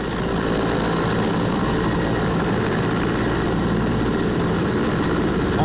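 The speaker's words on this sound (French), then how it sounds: "Les chasseurs Mirage français prennent les devants dans l'offensive, soutenus par des hélicoptères ivoiriens, dont un Mi-24" French Mirage fighter jets and an Ivorian Mi-24 helicopter flying during joint France–Côte d'Ivoire air manoeuvres, a loud steady roar of engines and rotor thrum filling the air without pause.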